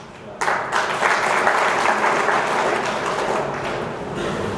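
An audience at a student political rally in Rajasthan bursts into applause after a brief pause, a dense, sustained clapping that holds steady and slowly tapers, with faint voices mixed underneath.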